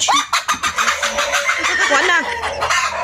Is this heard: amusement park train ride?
no